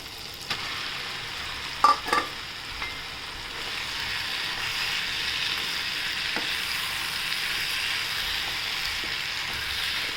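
Cooked rice fries in a pan for tomato rice, giving a steady, even sizzle throughout, with a few sharp clinks of stirring early on.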